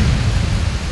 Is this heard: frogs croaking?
no